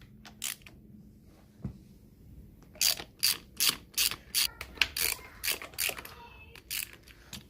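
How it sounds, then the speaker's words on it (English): Ratchet and socket with an extender loosening motorcycle clutch cover bolts, a quick run of sharp close clicking strokes in steady rhythm after a few isolated clicks, with no speech. "loosen them with a ratchet and then just do it by hand, just with the socket"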